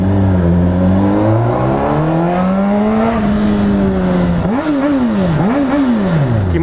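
Honda CBR motorcycle engine revving loudly and close, with rising pitch sweeps and sharp blips as the throttle is worked, continuous and dominant throughout with no talking.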